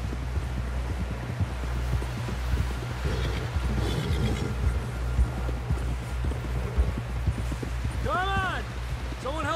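Horse hooves galloping across open ground in Red Dead Redemption 2, a steady thudding rhythm under wind and rustling, with a voice speaking over it near the end.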